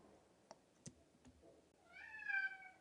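A cat lets out a single drawn-out meow near the end, following a few soft clicks, fairly close in an otherwise quiet indoor room.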